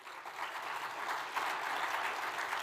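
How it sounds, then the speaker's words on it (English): An audience at a political speaking event applauds, a dense, steady wash of clapping from many hands that holds evenly for a few seconds. "Let's give him a round of applause."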